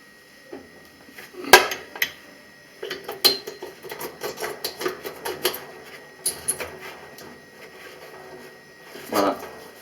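A small protective cap being fitted back over a replacement oven light bulb in an electric cooker, giving scattered light plastic clicks, taps and faint scrapes at close range, irregular and without speech.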